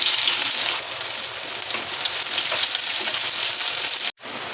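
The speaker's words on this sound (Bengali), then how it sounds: "প্রথমে পেঁয়াজটা একটু দিয়ে লাল করে নেব।" Onion frying in hot oil at the start of an egg and potato fry, a loud, continuous close sizzle with faint stirring scrapes, ending in a brief cut.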